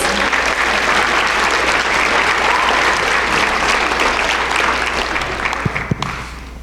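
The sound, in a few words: audience applause for a student volunteer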